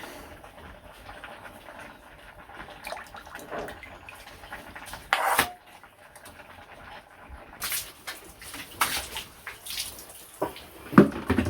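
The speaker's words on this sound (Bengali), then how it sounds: "এই যে মাছগুলো ভালো করে ধুয়ে নিলাম" Fresh fish being washed by hand in water, heard as quiet, scattered splashes, drips and sloshing with a few louder bursts of water movement.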